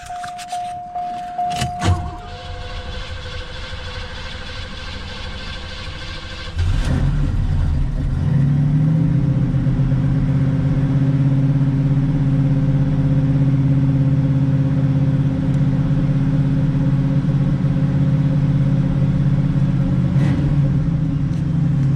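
A 1986 Oldsmobile Cutlass 442 with a rebuilt Quadrajet carburetor cranks briefly after some clicks, then fires and settles into a loud, steady idle rumble that continues close by.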